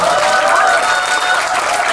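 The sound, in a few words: audience applause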